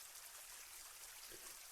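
Water trickles and burbles steadily in a small stream in Forest Hike Simulator 2, soft and continuous, with nothing else heard.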